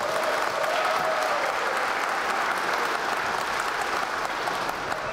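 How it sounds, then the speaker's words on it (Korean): A seated audience at a Hanam mayoral candidates' debate claps steadily and loudly, a dense, even wash of applause that holds for several seconds without a break. "좀 박수를 좀 우렁차게 한 번만 좀 부탁드리겠습니다"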